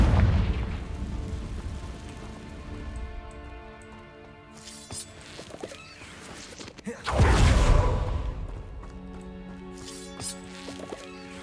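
A Confringo explosive spell in Hogwarts Legacy lets off a deep booming blast with a rumbling burst, set among game sounds with an earlier impact at the start and a quieter tonal hum afterward.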